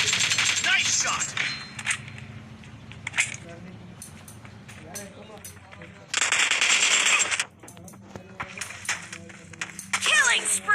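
Automatic gunfire rattles in PUBG Mobile in several sharp bursts separated by brief lulls, mixed with other in-game sounds.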